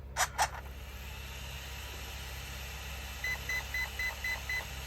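A Traxxas X-Maxx RC car gives two quick electronic chirps on power-up, then a steady series of six short, evenly spaced higher beeps, clear and close in a quiet room.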